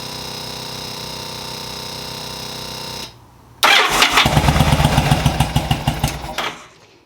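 A 2000 Yamaha VStar 1100 motorcycle with a resolved starting issue: a steady whine, a brief pause, then the engine catches and runs with a loud, close, uneven lumpy idle before cutting off near the end.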